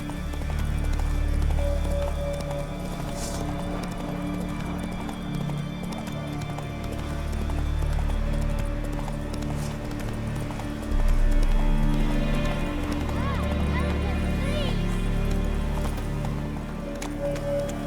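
A horse gallops in The Witcher 3, its hooves a fast, even clip-clop under a low rumbling game soundscape, close and sustained, with a brief whinny and a voice at moments.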